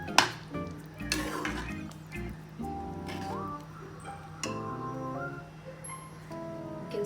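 Amritsari chole being stirred in a pot: scattered clinks and scrapes of a spoon against metal, with a low simmer beneath, fairly quiet and close, no talk.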